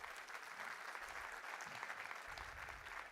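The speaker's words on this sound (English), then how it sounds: "Can you clap for them" An audience at a GDG Cloud Bhopal community event applauds Bhopal startups, a steady wash of clapping from many hands that continues without a break.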